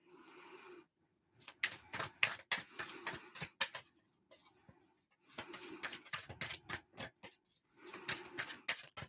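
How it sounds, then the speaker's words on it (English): Quiet, rapid clicking of keys typed on a keyboard comes in several separate bursts with short pauses between them, faint and close. "Just hold off on the typing for a moment"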